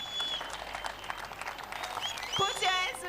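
Congregation applause at a church healing service, a steady, moderately distant wash of clapping running throughout, with voices and shouts rising above it near the end.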